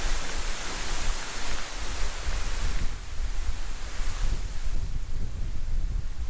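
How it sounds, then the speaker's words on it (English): Strong wind roars steadily in broad gusts, a constant rushing hiss like air through trees, with no voices. "Quite a bit windier up here compared to the glen."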